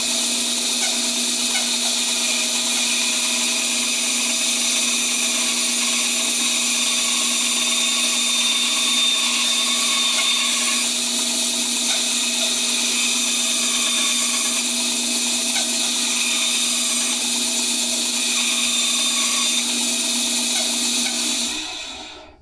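A band saw cuts wood in a long continuous run, its motor whine steady and loud with a strong sustained tone, before it stops abruptly at the end; no speech.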